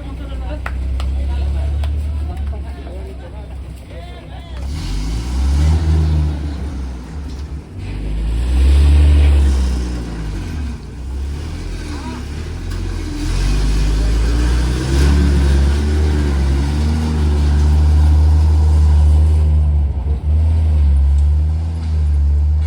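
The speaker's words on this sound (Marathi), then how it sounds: "गाडी निघली आता पुढच्या प्रवासाला" A car pulls away on the next leg of a pilgrimage procession journey, its engine rumbling and rising as it accelerates over about twenty seconds, with voices talking over it.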